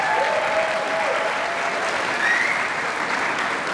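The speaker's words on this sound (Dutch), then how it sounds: "Jongens, mag een heel groot applaus voor jullie." A large audience at an end-of-year dance school show applauds steadily and loudly, dense clapping filling the hall with a faint cheer or two mixed in.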